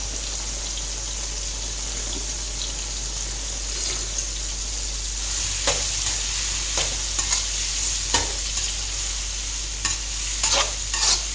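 Soybean chunks sizzle steadily in a pan with curry leaves, close and continuous, while a spoon stirs with repeated sharp scrapes and clinks that grow more frequent toward the end; no one speaks.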